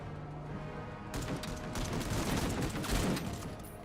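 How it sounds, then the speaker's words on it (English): Rapid bursts of battle rifle fire crackle in a chaotic video game firefight, dense repeated shots layered over a constant rumble of combat noise, with no voices. "The burst from the battle rifle"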